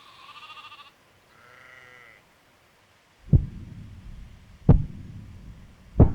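Two short, soft sheep bleats are followed by three heavy, booming thumps spaced well apart.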